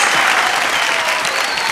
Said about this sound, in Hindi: जोरदार ताली 10।